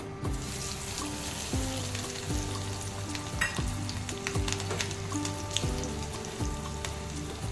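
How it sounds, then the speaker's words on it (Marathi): Green chilies hit hot oil in a pan and sizzle loudly and continuously, with a bubbling crackle and occasional stirring scrapes, no talking. "आता मी मिरची टाकते"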